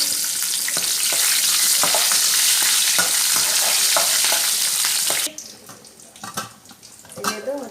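Curry leaves hit hot oil in a tempering alongside garlic and red chilli, giving a loud, close burst of crackling sizzle that drops abruptly to quieter bubbling and faint clatter.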